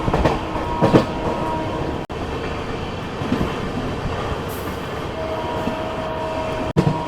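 The Secunderabad to Vasco da Gama bi-weekly express runs along the track with a steady, loud rumble and a faint clickety-clack from the wheels, heard without talk.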